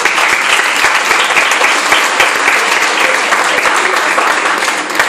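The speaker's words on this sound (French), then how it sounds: "un tonnerre d'applaudissements" Thunderous, sustained applause from a large crowd at the Miss Prestige Réunion pageant, very loud and dense with no letup, a few faint voices mixed into the clapping.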